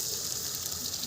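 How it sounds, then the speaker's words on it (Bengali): A small splash of water poured into spices in a pan, a brief, steady gushing hiss lasting about a second. "এখন এর মধ্যে দিয়ে দিচ্ছি অল্প একটু জল।"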